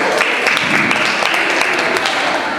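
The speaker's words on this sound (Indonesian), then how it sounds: "beri tepuk tangan untuk teman-teman Himka Jaya" A room of students at a student executive board presidential debate applauds steadily for the Himka Jaya team, with a dense, continuous patter of many hands and a few faint voices underneath.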